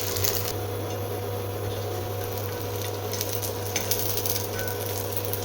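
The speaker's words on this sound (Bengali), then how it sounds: "ধুপুস ভাজবো।" Dhupus sizzle steadily in a pan of hot oil, a continuous close frying hiss with a low hum underneath and occasional faint clicks, no voices.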